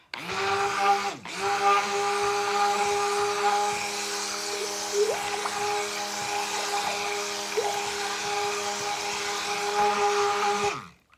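Electric mixer whirring steadily as it blends cactus sea salt soap ingredients, a loud continuous motor drone with a brief dip near the start, running alone for about eleven seconds before cutting off.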